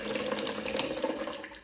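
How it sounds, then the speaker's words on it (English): Hot water pouring from an electric hot water dispenser into a cup, a steady close splash with a running-water hiss, continuous for under two seconds with no talk. "it dispenses hot water"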